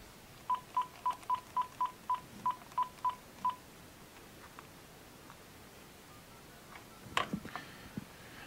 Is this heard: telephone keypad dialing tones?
yes